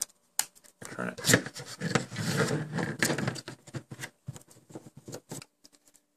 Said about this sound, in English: And we'll just put in the screw here and turn it.